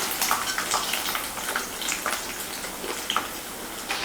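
Chicken crackles and sizzles in a pan of hot oil with a steady, close spatter and occasional sharper pops, and no voices.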